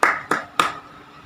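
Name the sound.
class clapping for all groups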